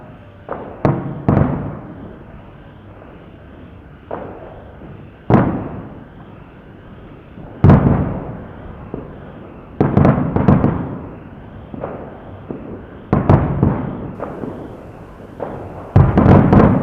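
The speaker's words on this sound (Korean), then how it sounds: "저렇게 축포 하늘에는 불꽃놀이를 했거든요" New Year fireworks bursting over a Thai riverside at a midnight countdown: a series of sharp booms and pops at irregular intervals, some in quick clusters, loud and echoing over a steady crowd murmur.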